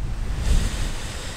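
Rushing water from a flooded river beside a campsite in the Lake District, a steady broadband roar with a low rumble swelling briefly midway, heard alone with no voices.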